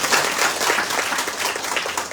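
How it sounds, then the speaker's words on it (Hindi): A crowd at a political booth gathering in Indira Nagar, Matabari, Tripura claps loudly and continuously in a dense, steady burst of applause. "जोरदार तालियों से एक बार मोदी जी का"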